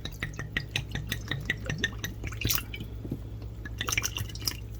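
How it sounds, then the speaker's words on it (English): Water added slowly to freshly milled grain flour for biscuit dough, heard as close, irregular drips and small liquid plops over a steady low hum. "now we're going to need about 2 cups of water, but we're going to add it slowly."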